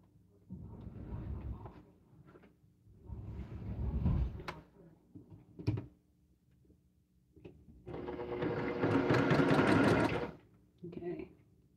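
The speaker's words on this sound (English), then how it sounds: "I'm just going to go ahead and sew the other one on." A sewing machine stitches a panel onto a French door quilt wall hanging, running in a loud, steady burst near the end. Softer handling noises and quiet talk come before it.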